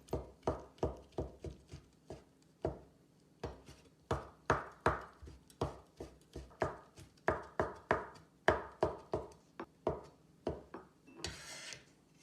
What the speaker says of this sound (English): Then cut off the stem from the mushroom. And then we mince it.